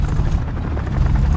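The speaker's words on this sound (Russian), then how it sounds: "какая-то вертолетная война" A combat helicopter in the War Thunder tank battle game thumps loudly and close, its rotor chop dense and continuous for a brief moment.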